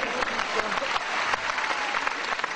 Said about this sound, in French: On peut l'applaudir, bravo mon pote.